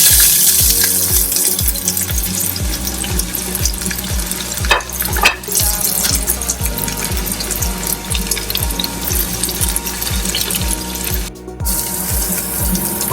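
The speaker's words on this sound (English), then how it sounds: "I'm going to add onion now." Onion dropped into hot oil for egg bhurji masala, a loud, dense, steady sizzle with a regular rhythmic thumping underneath and a couple of brief clatters.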